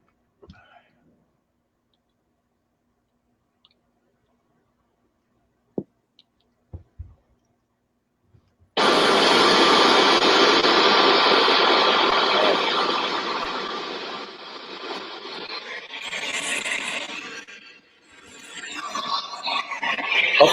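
Spirit box radio sweeping stations in reverse at a 200 millisecond rate, a loud, dense burst of choppy static and clipped radio fragments that starts suddenly after several seconds of near silence with a few faint clicks.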